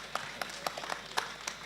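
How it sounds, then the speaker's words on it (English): Audience applause at an evening ideas forum held outdoors at Golden Square Freedom Park, a brief burst of scattered, uneven claps with a few sharper individual hits standing out. "I think you need to give Caleb a big round of applause."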